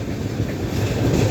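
A train on a railway track gives a loud, continuous low rumble with wind-like roar, steady throughout the brief moment.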